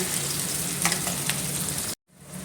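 Onions sizzle steadily in hot oil in a pan while cooking ginisang monggo, a dense close frying hiss that cuts off abruptly near the end.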